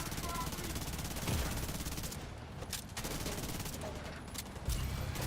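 SMG gunfire in the shooter The Division: a steady, rapid stream of automatic shots that carries on for several seconds at moderate loudness, with a few pauses and other game sounds mixed in.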